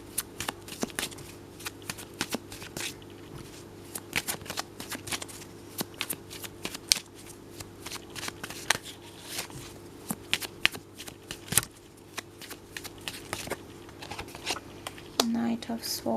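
Tarot cards are shuffled by hand over and over, giving a steady run of crisp, papery flicks and riffles that stay close and fairly quiet throughout.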